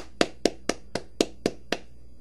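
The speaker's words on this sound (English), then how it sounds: "let's get a clap for the Big Show." Seven crisp, evenly spaced hand claps ring out close and alone in the run-up to the Big Show's recognition, a slow, deliberate rhythm with brief decays and quiet in between.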